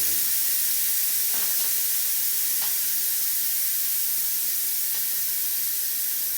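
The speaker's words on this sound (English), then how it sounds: "That steam is going to release." Steady hiss of steam venting from the front-button steam release of a pressure-style cooking appliance, a continuous broad rush held at even strength throughout with no talk.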